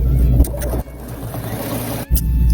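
A sewing machine stitching a 3/8 inch seam on a fabric bunny, a steady close motor whir with low mechanical rumble, stopping briefly twice before running on again.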